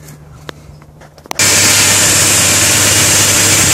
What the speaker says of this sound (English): Okay, now the engine's running.